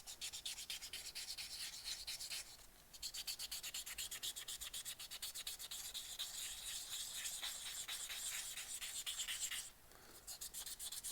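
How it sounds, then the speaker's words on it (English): A resin Easter egg from a lathe turning project is hand sanded with roughly 180 grit paper, a faint, steady, rapid back-and-forth scratching that pauses briefly twice. "Hand sanding is not fun"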